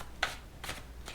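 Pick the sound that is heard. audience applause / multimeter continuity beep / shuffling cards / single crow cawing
shuffling cards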